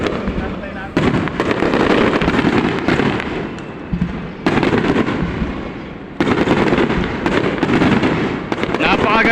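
Fireworks bursting at a crowded outdoor event, loud cracking volleys in several bursts with brief pauses between them, crowd noise underneath.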